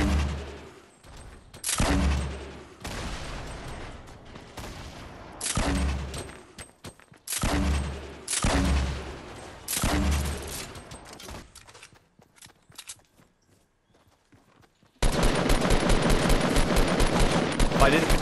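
Fortnite Battle Royale gunfire comes in repeated sharp bursts of shots, loud and close, separated by short gaps. Quieter moments fall between them, and a dense, continuous burst of noise comes at the end.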